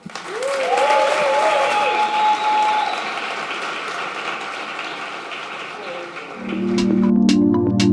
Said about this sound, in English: So let's give him a warm welcome and a big round of applause to Nathan White.